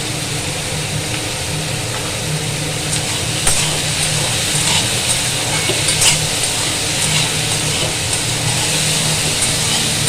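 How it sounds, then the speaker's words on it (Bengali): Spice paste with salt and turmeric fries in a pan, giving a steady, loud sizzle with a dense hiss. Faint stirring scrapes run through it the whole time, with no one speaking. "দেখো এরকম করে ভেজে নিলাম, তেল ছেড়ে গেল"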